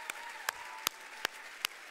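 Sharp hand claps ring out at an even, steady rhythm, five crisp beats over a faint background, as a church congregation acclaims during a Pentecost service.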